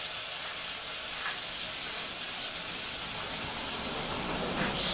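Chicken, freshly flipped, fries in a thin layer of olive oil in a pan, a loud, steady, close sizzle and hiss that runs unbroken with no voices over it.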